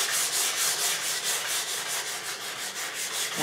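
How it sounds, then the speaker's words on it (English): Light hand sanding over a chalk-painted, dark-waxed medicine cabinet, a steady close-up rasping rub that pulses in short rhythmic strokes with no talking. "So I'm just going to lightly sand"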